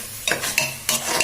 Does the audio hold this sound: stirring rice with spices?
yes